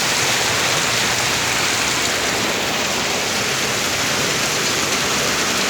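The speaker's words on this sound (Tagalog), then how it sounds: "Eh, umuulan, oh." Steady, dense rain pouring down without pause, a loud, even hiss filling the whole stretch with no voices.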